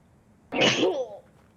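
A single sharp sneeze bursts out, close and loud, then fades within half a second, with quiet room noise on either side.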